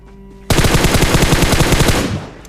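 Automatic gunfire from a battle royale video game erupts after a short quiet lead-in, one loud rapid burst of closely spaced shots lasting about a second and a half before cutting off.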